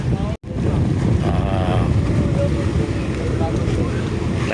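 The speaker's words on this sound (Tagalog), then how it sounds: "Yan yung barko. Malit lang." A small ferry boat travels over choppy sea, a continuous rumbling engine and wind-buffeted water wash loud and close, with someone talking over it.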